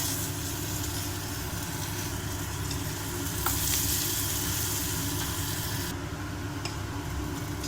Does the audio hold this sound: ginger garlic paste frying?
yes